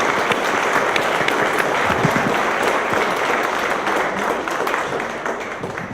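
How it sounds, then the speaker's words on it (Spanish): Sustained applause from a seated audience at a public event on archives and truth-commission documents fills the space, a dense, steady clapping wash that fades slightly near the end. "lo que debemos hacer es darle un aplauso al InfoDF por haber organizado estos eventos"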